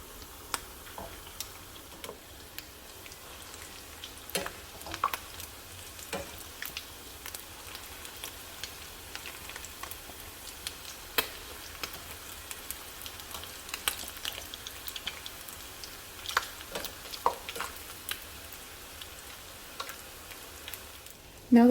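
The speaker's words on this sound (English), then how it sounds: "I'm just going to fry these until they are golden brown and crispy." Rolled tacos filled with ground beef fry in oil, making a low, steady bubbling sizzle with small irregular ticks and pops throughout and no speech.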